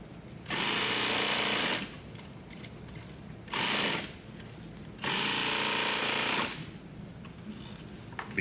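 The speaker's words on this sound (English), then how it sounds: "This piece of Velcro goes right here." Sewing machine stitching Velcro onto nylon tactical gear, three rapid rattling bursts of stitching, the middle one short, separated by quiet pauses, fairly close.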